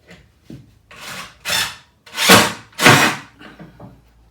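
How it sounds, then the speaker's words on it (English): A screwdriver bit scrapes and slips against a pocket hole screw in wood, giving a series of short rasping scrapes that grow louder in the middle, close up and without talk. "Whenever I get to screwing, it slips."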